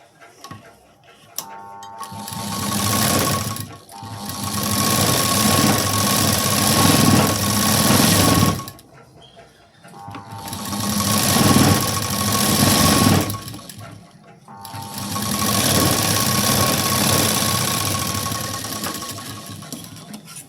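A sewing machine runs in three long bursts, stitching a fabric strip along the edge of a sleeve piece, a steady loud mechanical whir with short pauses between runs.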